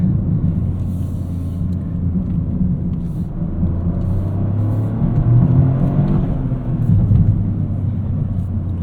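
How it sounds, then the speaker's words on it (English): A 2023 Toyota GR Corolla Core engine on a canyon road run, a steady low droning rumble that swells slightly in the middle, heard from inside the cabin with road and wind noise. "this powertrain is quite playful and it sounds cool like a baby V6"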